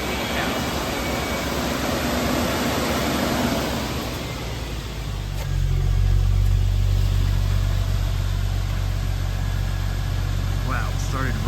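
A car engine that has sat unused for months cranks and catches, then settles into a loud, close, steady idle with a deep rumble that continues to the end.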